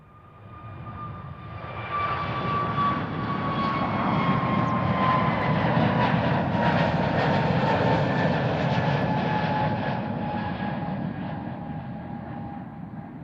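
An Aer Lingus airliner departs Amsterdam Schiphol for Dublin, its engine roar swelling over a couple of seconds into a steady loud rumble with a falling whine, then slowly easing as it moves away.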